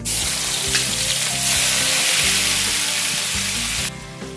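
Crushed onion hits hot oil with whole spices and a bay leaf, a loud, dense, unbroken sizzle close to the mic that cuts off sharply near the end.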